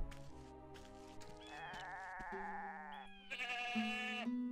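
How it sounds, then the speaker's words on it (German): Goats in the fantasy game Ultima IX: Ascension give several loud, drawn-out wavering bleats one after another, sounding alone against quiet background music. "Seid ihr jetzt auch böse oder seid ihr normale Ziegen?"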